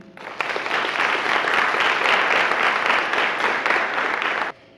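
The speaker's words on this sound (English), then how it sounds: "Also, would you please help me applaud Mr. Brazel for all that he did 30 years ago" An audience at a 30th anniversary celebration breaks into loud, full applause that rises quickly, holds steady for several seconds without talk, then cuts off sharply.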